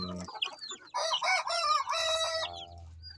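Pure silkie chicks in a backyard, a close burst of shrill, high cheeping and chirping calls that comes in quick overlapping phrases, with no talking.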